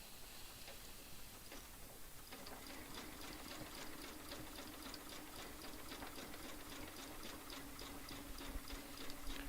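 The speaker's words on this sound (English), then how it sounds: "Drop my needle and my foot. And now I'm going to keep quilting." A sewing machine quilting a quilt runs steadily, a faint, even mechanical hum with light rhythmic ticking of the needle, continuous throughout with no talk.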